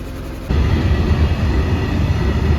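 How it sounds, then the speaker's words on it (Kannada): After a quiet half-second, a heavy goods train rumbles past nearby, a deep steady roar with rattling wagons that continues to the end. "ಟ್ರೈನ್ ಇವಾಗ ಪಾಸ್ ಆಗ್ತಾ ಇದೆ. ಅದು ಗೂಡ್ಸ್ ಗುರು."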